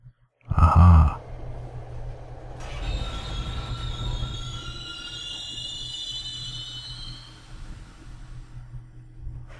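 A train rumbles along steadily in the video game Silent Hill 3, with a low rolling drone and high metallic wheel squeals that linger over it, after a short loud knock at the start.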